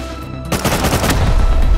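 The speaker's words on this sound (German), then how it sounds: "Warte, ich schieße eine Rocket." A rocket fired in the survival game Rust: a sudden loud blast after a short pause, trailing into a sustained roaring rush that stays loud to the end.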